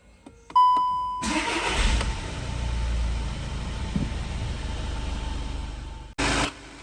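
A chime sounds, then a VW Golf Mk7 1.6 TDI diesel engine cranks and catches, settling into a steady idle close by, followed by a brief burst near the end.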